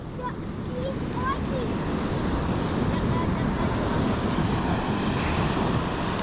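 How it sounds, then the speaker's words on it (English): Surf breaking on the beach at Bingie, NSW, a steady loud wash of waves with wind buffeting the microphone, continuous throughout with no distinct pauses. "Big wave."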